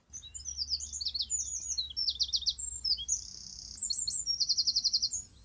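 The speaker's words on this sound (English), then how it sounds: "Now we've got some birds, if you like birds." Birds singing in woodland on the Isle of Wight, several clear, close chirping and trilling phrases following one another in quick bursts, with fast repeated notes standing out against a quiet background.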